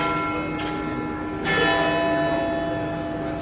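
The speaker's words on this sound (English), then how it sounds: "So, nice church bells ringing. I think it must be midday." Church bells ring at midday in Aix-en-Provence, sustained tones that hum and overlap at a moderate distance, with a fresh strike swelling partway through and no talk.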